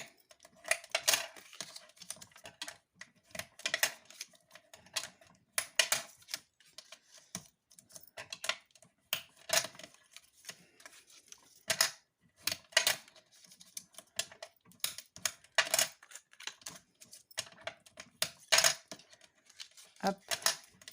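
Paper being creased and folded by hand while making a Christmas tree decoration, giving a string of close, crisp crackles and sharp taps in irregular bursts, with brief quiet gaps between folds.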